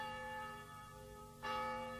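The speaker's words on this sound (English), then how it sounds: "the bell began to toll, instead of ringing in the usual way" A church bell tolling slowly in a small town, a single resonant strike with a long humming decay heard at moderate distance, ringing out alone.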